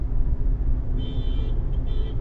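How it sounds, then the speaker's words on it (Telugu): A Bolero's horn honks from behind on a highway, a steady tone held about half a second, breaking briefly, then sounding again over continuous road and engine rumble inside a moving car. "సో వెనకాల వాడు బొలెరో వాడు చాలా హార్న్ కొడుతుండు"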